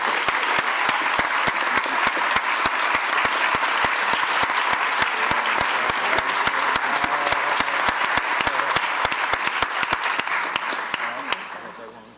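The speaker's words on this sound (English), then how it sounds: "Please give her another round of applause as a Rising Star Award." An audience at a 2014 awards luncheon gives a Rising Star Award recipient a long round of applause: dense, loud, steady clapping that fills the room and fades out at the end.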